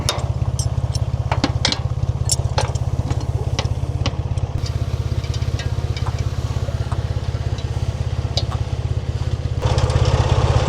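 A tractor engine runs with its PTO turning a drive shaft on a Portuguese farm, a steady low throbbing drone that holds constant throughout and grows slightly louder at the end, with faint clicks and knocks over it.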